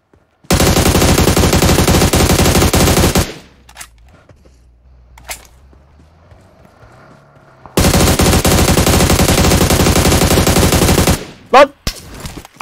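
PUBG Mobile gunfire rattles out in two long, loud automatic bursts close by, separated by a quiet gap with faint ambient noise, followed by a few brief final cracks.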